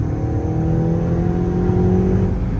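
A VW MK6 GTI fitted with a stage 2 South Bend clutch drives along, its engine droning steadily with a low, even hum at a constant pitch, loud and close.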